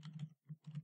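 Several quick keystrokes on a computer keyboard as a password is entered, in two short bursts separated by a brief pause, close and fairly quiet.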